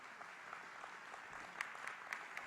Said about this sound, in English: I think we can give another round of applause to the panelists